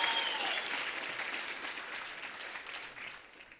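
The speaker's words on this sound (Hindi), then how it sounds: "प्लीज जोरदार तालियां सर के लिए।" A TV talk-show audience claps enthusiastically in a steady, dense burst of applause that gradually fades toward the end.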